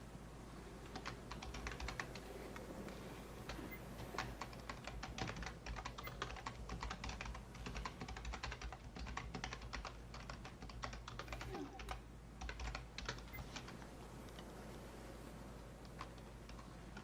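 Steady, rapid clatter of keys on a computer keyboard, close and fairly quiet, continuing without break for the whole stretch with no talk over it.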